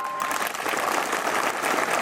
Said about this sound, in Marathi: तुम्ही टाळ्या वाजवावर जोरदार.